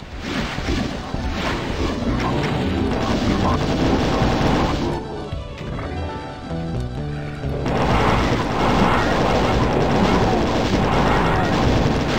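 Rockets are fired into a crowd of heavy monsters in classic Doom, producing a barrage of loud, dense explosions that pause briefly for a quieter musical stretch and then resume just as intensely.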